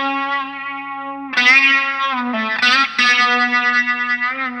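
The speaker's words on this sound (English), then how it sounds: "now we're just gonna bend it without picking. With a distortion and some sustain" Electric guitar with distortion and sustain playing a solo phrase: a held note, then loud string bends rising in pitch without picking, sustained and ringing with effects, played alone.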